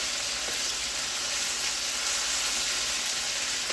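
Garlic-crusted lamb chops sizzle steadily in a hot pan, a dense, close, constant frying hiss with no pauses and no voices.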